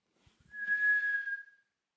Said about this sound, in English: Would you perhaps be able to whistle